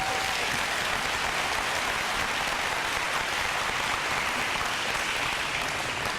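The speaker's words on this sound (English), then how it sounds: "Everybody, please give a round of applause to my new bride" Dense, even applause from a large audience at a political campaign kickoff event, continuous and somewhat distant, with no talk over it.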